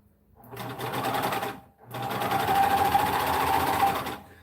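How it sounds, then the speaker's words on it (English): An old Singer domestic serger sewing a wrestling singlet runs in two close bursts, a fast rattling stitch with a brief stop between them. "This little domestic serger though, little Singer one does great."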